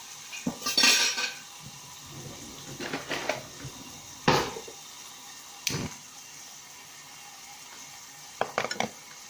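Cutlery clinks and scrapes against a plate while steak is cut in Red Dead Redemption 2, scattered sharp metallic clatters over a faint background sizzle.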